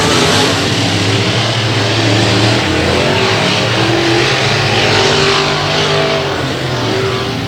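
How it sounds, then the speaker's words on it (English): Race car engine roaring loud and steady on a Texas speedway oval during a late-race lap, a continuous droning whine with slight revving swells and no break. "Joe Spillman really having difficulty getting that car to negotiate turn 3"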